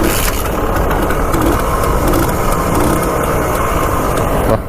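A Bajaj M80 two-stroke motorcycle engine runs steadily close by, a loud, continuous buzzing drone with a rough, even texture and no talking over it.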